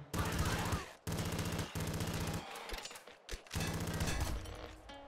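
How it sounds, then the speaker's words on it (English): Rapid automatic fire from the spiral yo-yo gun in the game Nuclear Throne, loud bursts of dense crackling shots broken by short pauses, with a few brief gaps and mechanical clicks. "Get a lot from that spiral yo-yo gun. Sounds pretty gnarly."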